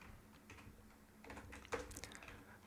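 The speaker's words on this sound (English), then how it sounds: "So we type string player1 equals Kate" Computer keyboard typing a line of Java code, quiet scattered key taps close by, faint and irregular with no talk.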